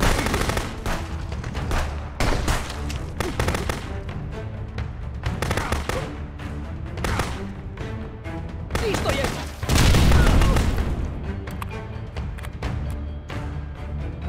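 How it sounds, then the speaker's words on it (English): In a Sniper Elite video game, gunfire rattles in steady bursts and a grenade blast hits hard near the end, a loud low boom amid the shooting, with players talking and reacting over the action. "That's a grenade."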